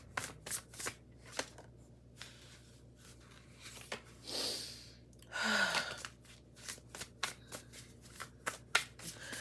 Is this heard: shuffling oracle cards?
yes